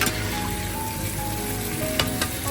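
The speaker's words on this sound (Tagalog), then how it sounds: "halu-haluin lang po natin ang ating chicken" Chicken sautéing in a pan for a creamy chicken mushroom dish, a close steady sizzle with a couple of scraping stirs near the end, no voices.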